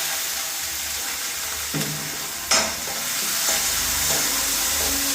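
Chopped onions frying in hot oil with popped mustard seeds in a pan on the stove, a steady close sizzle with a few sharp clinks and scrapes from stirring.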